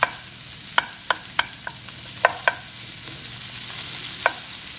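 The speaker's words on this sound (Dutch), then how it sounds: "ondertussen staat die spek dan lekker heel krokant te bakken" Bacon frying until crispy in a pan for pasta carbonara, a steady close sizzle broken by scattered sharp pops and crackles, with no talking.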